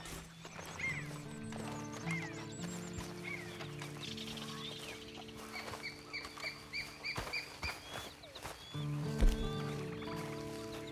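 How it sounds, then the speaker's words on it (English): Horse hooves clip-clopping alongside a whinny in the Red Dead Redemption 2 online game, set over a steady musical backdrop with faint birdlike chirps, with one louder thump near the end. "And you better get on this horse."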